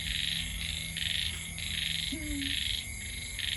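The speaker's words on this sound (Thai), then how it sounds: "อยู่ท่ามกลางธรรมชาตินะคะ ได้ยินเสียงกบเขียด" Frogs croaking out in nature, a rhythmic series of pulsed calls that repeat in short bursts over a soft background chorus of insects, fairly faint and with no talking.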